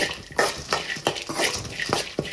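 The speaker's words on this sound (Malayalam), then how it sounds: "ഇനി ഇത് രണ്ടോടെ ഒന്ന് നന്നായിട്ട് ഇളക്കി കൊടുക്കാം" Sesame seeds and roasted gram stirred in a pan, a spoon scraping and rattling in quick irregular strokes, close and fairly loud, with no talking.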